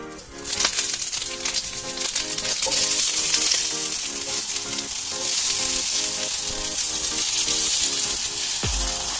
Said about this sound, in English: You're going to take a nice medium-high cast iron pan and start laying the Brussels sprouts in it.